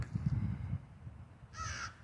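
An outdoor crow lets out one clear, fairly near caw late in the clip. Before it, low rustling and ambient outdoor noise fill the background.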